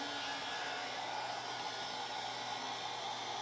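Hair dryer running on its low setting, a steady continuous airy whoosh, close and even throughout with no talking.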